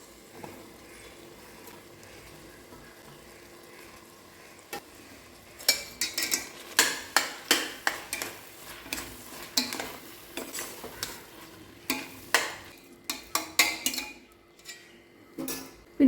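Chopped banana flower is added to frying masala in a pan for banana flower biryani, then stirred with a series of close, clattering scrapes. Soft sizzling continues underneath, after a quiet lead-in.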